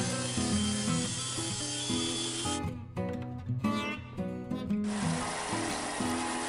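Music plays loudly over a CNC router carving a wooden cutting board with a V-bit and a flat bit, a continuous grinding and rubbing that briefly drops away before resuming.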